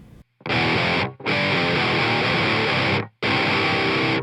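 Heavily distorted electric guitar chords from a song's chorus played in loud bursts, with short silent gaps between the strummed sections.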